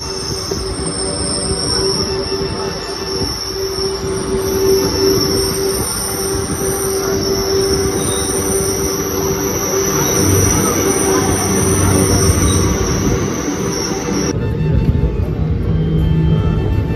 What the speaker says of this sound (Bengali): এই এখন আমাদের ট্রেনটা কিন্তু এখন এই টানেলের মধ্যে থেকে যাবে।